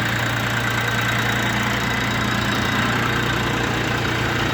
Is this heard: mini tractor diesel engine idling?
yes